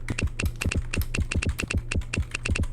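Fast, steady typing on a computer keyboard in a quiz game show, with crisp, close key clicks tapping in a quick rhythm over a low steady hum.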